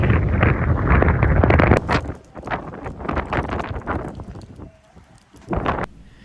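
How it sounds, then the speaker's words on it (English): Loud rushing wind gusts buffet the microphone, a heavy blast at first, then intermittent gusts with quieter lulls between them. "The next day the wind really blew in hard as expected"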